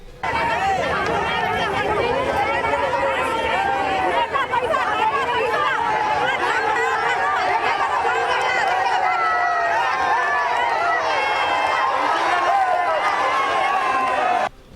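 A large crowd in uproar at a roadside blockade as police charge with batons and people hurl stones, a dense, continuous roar of many shouting and wailing voices, loud and close throughout.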